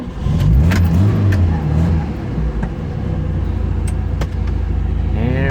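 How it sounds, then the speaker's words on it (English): A 1974 Fiat 128 SL Sport Coupe 1100cc engine cranks and catches, then runs with loud, steady revving, close by, with a brief metallic jingle near the start. "Let's fire it up and show you what it was all about in the 70s."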